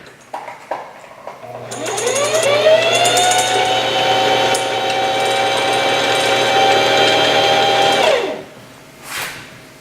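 A sewing machine winds thread onto its bobbin with a smooth, steady high-pitched whir that spins up, holds for about six seconds and winds down. A few light clicks come before and after.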